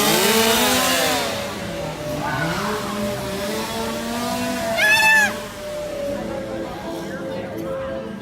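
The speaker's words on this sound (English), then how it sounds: "I think we got through the chainsaws." Chainsaws snarl and rev in a theme park Halloween scare zone, loud and close at first and then fading, over a crowded outdoor background with a brief squeal near the middle.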